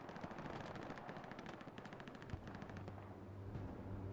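A machine gun fires long rapid bursts in the World War II shooter Hell Let Loose, the rattling shots faint and distant with a low hum beneath.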